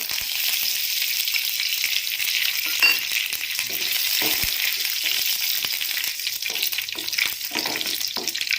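Steady hiss of tempering spices and dried red chilies sizzling in hot oil, with occasional soft scrapes of a spoon stirring, close and continuous throughout.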